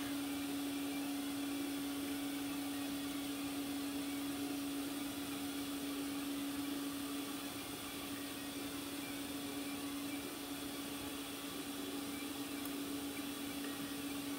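A 3D printer running during a print, printing a vacuform buck, gives a steady close mechanical whir with a constant hum, even and unbroken throughout with no talking.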